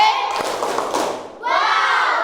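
Children in a classroom clap their hands together as a group, a dense burst of claps with some shouting and kid voices mixed in, fading briefly before a loud voice rises.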